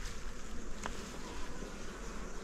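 Honey bees swarming around a beehive during a colony merge, a dense, steady buzzing hum that fills the whole stretch at close range, with no voices.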